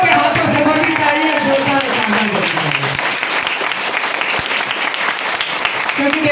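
An audience at a business training seminar breaks into loud, sustained applause, many hands clapping at close range while someone talks over the noise.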